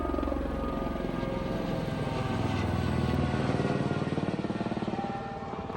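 A helicopter flies over the Grand Canyon, its steady rotor thrum and engine drone loud and continuous throughout, with the blade chop growing more pronounced toward the end as it passes.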